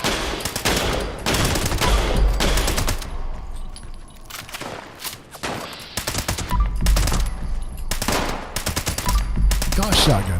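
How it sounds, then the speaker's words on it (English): Shotgun fire in the video game Fallout 76 comes in repeated loud bursts of shots, separated by short lulls. "Gosh, shotguns."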